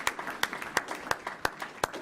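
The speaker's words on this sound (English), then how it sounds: "You can give him a round of applause." At a school board meeting, a small group gives a brief round of applause, with sparse, fairly soft claps in an uneven rhythm in a meeting room.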